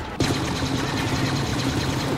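Rapid gunfire from the Star Wars Battlefront video game erupts suddenly and stays loud and continuous, a dense burst of repeated shots close up.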